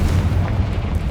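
A Confringo spell blast in Hogwarts Legacy, a loud, deep booming explosion with a rumbling low-end roar that fills the whole second without pause.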